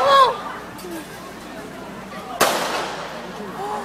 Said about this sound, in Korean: 이때 거리에 울린 두 발의 총성